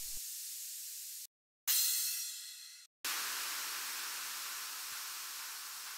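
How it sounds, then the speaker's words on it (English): Broad downlifter noise sweeps in a progressive house track made in FL Studio, with two abrupt cuts, one swelling crash decaying downward, then a long sustained wash of hiss fading slowly. "Now just add some effects, for example, downlifters and crashes."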